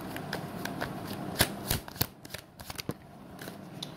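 Tarot cards being shuffled by hand, a quick series of crisp riffling snaps and soft slides at close range, irregular bursts over a quiet background.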